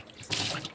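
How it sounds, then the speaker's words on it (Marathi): Tap water starts flowing partway through as ridge gourds are rinsed under it, a close, bright rushing hiss that swells and holds steady, with no talking. "आता आपण दोडके धुवून घेऊया स्वच्छ."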